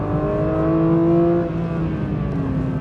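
A Porsche 992.2 GT3 driven on a race track, its engine note close and loud, holding a high pitch, then dipping and climbing again as the revs shift.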